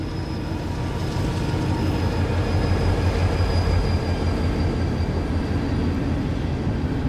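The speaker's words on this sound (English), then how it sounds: "there's a train I may get on it" Train rolling past with steady, dense rumble and rail noise, a faint high wheel whine running throughout, loud and continuous with no voices.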